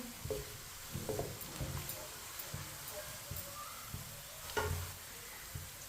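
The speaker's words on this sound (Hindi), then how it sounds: "प्याज को इसी तरह चम्मच चलाते हुए ब्राउन करना है।" Onions browning in a pan for a turnip (shalgam) dish, stirred with a spoon: a soft continuous sizzle with scraping stir strokes at irregular intervals, moderately close.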